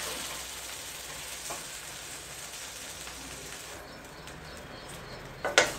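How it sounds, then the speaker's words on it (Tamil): Fish fried rice is stirred and tossed in a hot pan, giving a steady broadband sizzle throughout, with a few scraping knocks near the end. "நல்லா மிக்ஸ் பண்ணி விடுங்க."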